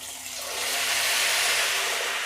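Ghevar batter is poured into very hot ghee in a kadai, making a loud, steady sizzling hiss that swells slightly and holds for a couple of seconds with no talking.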